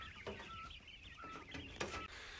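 Three-week-old chicks in a brooder cheep and cluck in a steady, close-up chorus, with brief peeps rising over continuous low fowl chatter and no talk.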